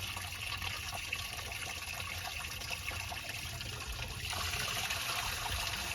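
Engine coolant draining from a 2006 Chevy Silverado 1500 WT with a 4.3 engine into a drain bucket, a steady trickling pour of liquid that grows slightly louder partway through.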